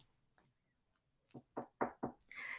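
Four quick, firm knocks on a large castle door follow a moment of near silence, each a distinct thud, trailed by a faint hiss.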